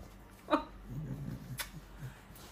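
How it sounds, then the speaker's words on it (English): A pet dog gives a single short bark up close, followed by low grumbling and whimpering noises indoors. "That's my dog."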